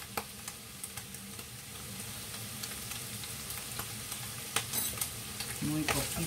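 Chanfaina ingredients brown in a hot pan with a constant close sizzle and crackle, punctuated by scraping stirs and small clinks of a utensil against the pan.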